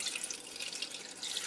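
Cold water poured from measuring cups into a Monsieur Cuisine pot while making mulled wine with lemon and orange, a steady close splashing stream with no talk.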